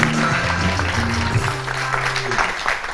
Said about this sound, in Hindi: कितनी खूबसूरत लग रही हो, सो तालियां